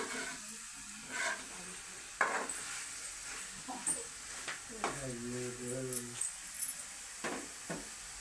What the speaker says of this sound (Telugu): చూడండి, కలుపుతూ ఉన్నారు ధనియాల పొడి వేసి.